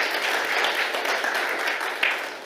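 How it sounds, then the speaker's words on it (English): Applause from the audience at a signing ceremony, a sustained wash of many people clapping at moderate loudness, fairly even throughout, with one sharper clap standing out near the end. "So clap for us, please."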